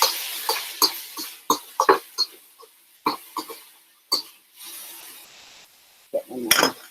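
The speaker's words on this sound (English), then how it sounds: "So I'm just going to stir this chicken real quick." Chicken being stirred in a single pan for pancit bihon, giving a series of short scraping and clinking strokes of utensil against pan, fairly close, with no talking.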